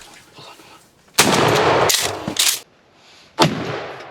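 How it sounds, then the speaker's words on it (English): Loud shotgun blasts fired at a turkey while hunting outdoors, a burst of close booming reports followed by a second single shot after a pause. "your shot was like a mile over top of him"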